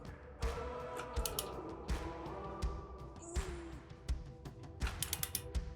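Torque wrench tightening the front wheel axle of a motorcycle fitted with a 21-inch chrome ribbed spool hub wheel, heard as repeated ratcheting clicks and metallic creaks in an uneven rhythm, close up, with no talk.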